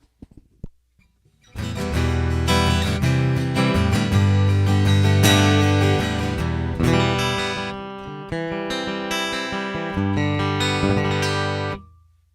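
Strummed acoustic guitar chords, EQ'd with the treble removed, ring out after a few light plucks, a steady run of bright strums that cut off abruptly at the end.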